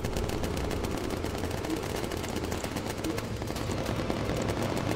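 Rapid, dense machine-gun fire rattles from the gun turrets of bombers in Bomber Crew, a continuous loud barrage lasting throughout with no pauses.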